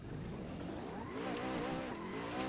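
A drift car on a race track is thrown sideways into a corner with a big entry, its engine roaring steadily with rising and falling revs and tire squeal blended in, loud and continuous throughout.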